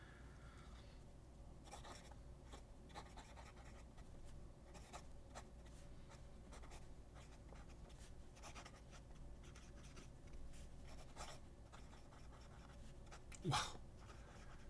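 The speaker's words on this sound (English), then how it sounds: "This nib just makes it so much fun to write with." A Schmidt No. 5 fountain pen nib scratches across paper in short, faint strokes with a soft, steady rhythm, close up. A voice briefly exclaims near the end.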